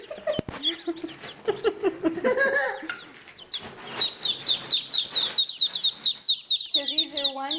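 One-day-old Muscovy ducklings peep in a rapid series of high, repeated chirps close by, with people talking over the start and a voice rising near the end.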